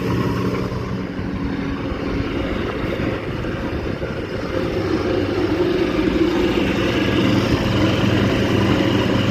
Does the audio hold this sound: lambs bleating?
no